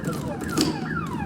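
Car alarm in a video game, a descending electronic wail repeating in sweeping tones, moderately loud over steady background game noise.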